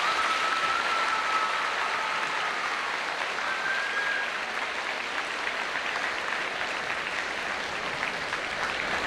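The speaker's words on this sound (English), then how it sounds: "And you should give yourselves a round of applause." Students in a school gymnasium at a high school Black History Month ceremony break into sustained applause, a dense, even roar of many clapping hands that carries on steadily for several seconds.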